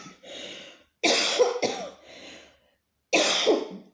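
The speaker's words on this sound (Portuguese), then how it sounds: "Eu ainda tô tossindo bastante." Several harsh coughs in short bursts separated by pauses, close and fairly loud, with no talking.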